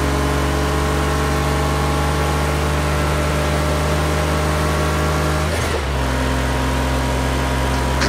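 Race car engine in the Project Cars 2 video game holding a steady high-pitched drone in sixth gear at around 250 km/h, loud and continuous, with a brief dip and pitch shift near the end.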